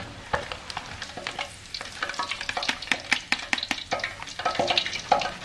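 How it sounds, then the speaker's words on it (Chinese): Quail eggs deep-frying in oil over medium heat, a dense crackle of sizzling pops and spatters close by, steady and busy throughout with no talk. "然后开中火慢慢的炸，把鹌鹑蛋炸得起皮就可以捞出了"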